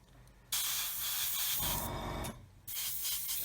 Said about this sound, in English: just give that a gloss coat all over